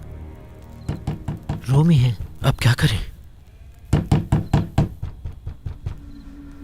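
Sharp, loud knocks pound on a door in a historical drama, coming in rapid bursts before and after a stretch of talk, the later run of blows fading slightly toward the end.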